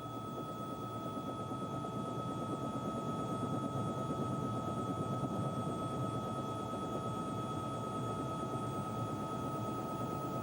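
A hijacked Boeing 767 airliner flying toward a tower of the World Trade Center in New York gives a constant, even engine drone and rumble with a faint steady whine, unchanging across the whole stretch.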